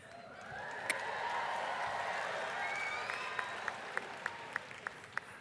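Audience applause at a student convocation swells into a broad, sustained wash of clapping from a large crowd, with a few sharper individual claps standing out near the end as it fades.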